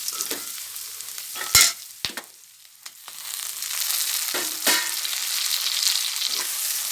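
Garlic sizzles in hot oil in a pan for vegetable semiya kichadi, a bright continuous crackle broken by a few sharp scraping stirs and a short quieter lull.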